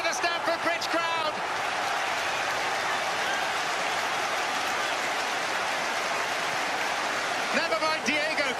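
The Stamford Bridge crowd at a Chelsea Champions League match roars after a goal, a loud sustained wash of cheering. A commentator talks over it at the start and end.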